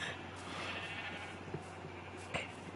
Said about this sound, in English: There's definitely a sheep farm here.